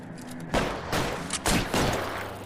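Gunfire in the video game L.A. Noire: several loud, sharp shot bursts in quick succession over a low background hum.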